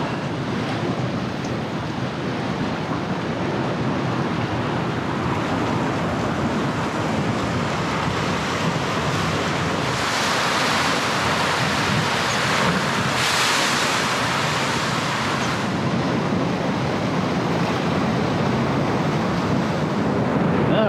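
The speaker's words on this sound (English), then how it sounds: "crevice in the rocks here where the sea's rushing" Sea waves rush into a rock crevice on a New South Wales Central Coast beach, a loud continuous roar of surf and churning water with wind buffeting the microphone and no speech.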